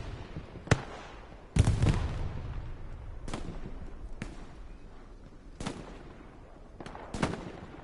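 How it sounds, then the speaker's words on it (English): Artillery fire in the video game Hell Let Loose: sharp explosive booms strike at irregular intervals, some near and loud, others farther off, over a low rumbling battlefield background. "This is really good artillery from the Allies."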